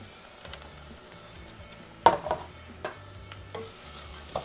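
Chopped tomatoes sautéing in a pan for chicken biryani, with a soft, steady sizzle and a few quiet spoon scrapes and taps, no voices.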